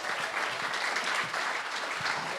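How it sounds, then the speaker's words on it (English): Audience applause for performers Ian and Michelle at a Lincolnshire songwriting event, a dense, steady wash of clapping from a small crowd. "Applause coming for Ian and Michelle."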